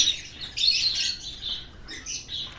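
Pet budgerigars and Java sparrows in cages chirp and twitter close by, a busy overlapping run of short high calls and squeaky tweets in bursts with brief gaps.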